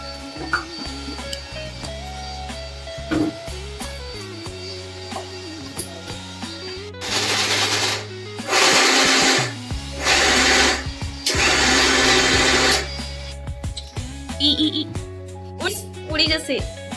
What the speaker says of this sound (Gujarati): તળેલા મુઠિયા છે ને એને મિક્સરમાં ક્રશ કરો.